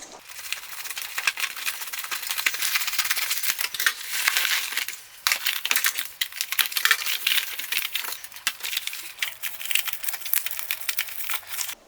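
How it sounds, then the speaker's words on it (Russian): Crinkling, tearing plastic as a mail parcel of Japanese-market metal audio cassettes, including Hitachi MT60 and TDK ME54 tapes, is ripped open; steady close crackle and rustle with short pauses, no talk. "Ну а теперь вернусь к распаковке вот этого пакета."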